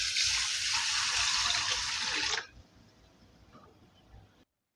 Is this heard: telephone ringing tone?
no